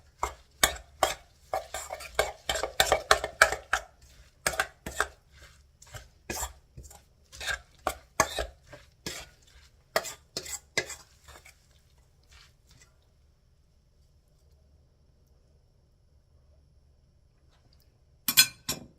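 A shrimp and Chinese cabbage gyoza filling being mixed in a bowl, with repeated close clinks and wet squishing strokes in bursts that stop, leaving near silence before one last clatter.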